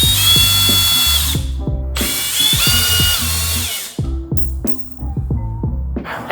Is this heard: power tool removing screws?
yes